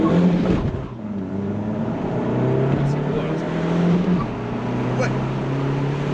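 A VW Golf 7 2L TDI Stage 3 accelerates hard, its engine note climbing through rising pitch sweeps with gear changes, heard from close by while people talk over it.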